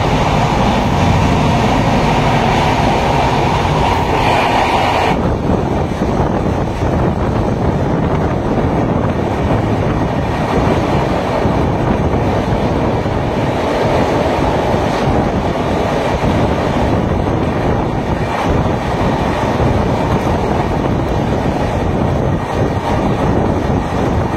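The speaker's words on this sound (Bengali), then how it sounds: "ভুবনেশ্বর ছাড়ার পরে ট্রেনের গতি 127 কিলোমিটার পার আওয়ার।" An express train out of Bhubaneswar runs at 127 km/h, giving a steady, loud roar of wheels and rushing air with wind buffeting throughout, heard continuously from on board with no talk.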